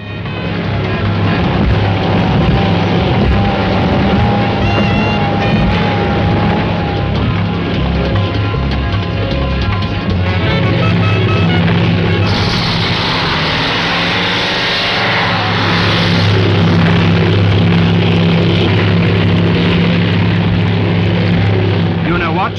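Racing power boats roar at full throttle in a loud, continuous engine drone, with a commentator talking over the noise throughout.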